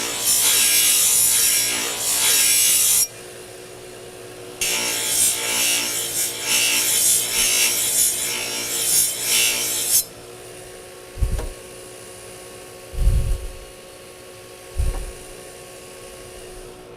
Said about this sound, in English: I'm going to use this polishing blending wheel